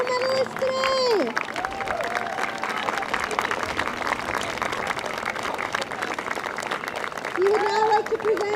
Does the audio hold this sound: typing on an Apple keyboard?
no